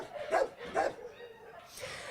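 Two short dog barks from shelter dogs stand out, moderately close, over a faint background hum.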